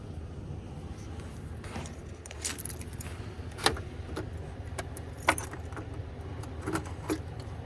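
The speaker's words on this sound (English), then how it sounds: "let's stick the key in first and see if we got anything" Keys jangle and click close by as a key is fitted into the ignition of a snowbound excavator, with scattered metallic taps and rattles over a low rumble of a nearby idling truck.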